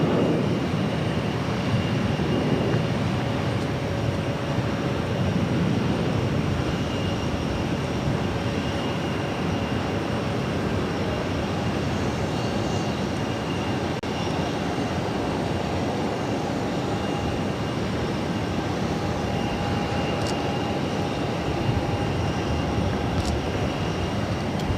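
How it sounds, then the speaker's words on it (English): An Emirates Boeing 777-300ER jet taxis at Boston Logan Airport, a steady, broad engine roar with a faint whine holding evenly at moderate distance throughout, no voices. "The Emirates 777 to 300 ER taxiing in front of us here."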